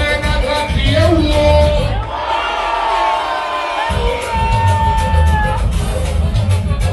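Big concert crowd at a tribute event yelling and whooping in response to a call, loud sustained shouting with a short lull before the roar returns.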